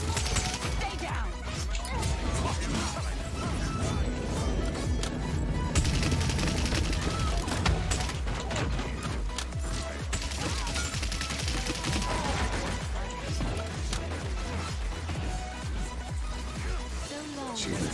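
Rapid gunfire and impacts crackle almost nonstop through a Paladins match, dense bursts layered over game effects, with players talking over the fighting.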